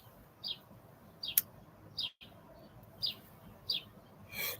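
A pet bird indoors gives a series of short, sharp chirps, about five or six spaced a second or so apart. They sound clear but moderately quiet over a low room hum, with no talking.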